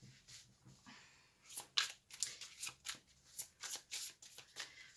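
Tarot cards being laid out and handled at close range, giving a quick series of soft slaps, flicks and shuffling rustles in an uneven rhythm, quiet overall with no talk.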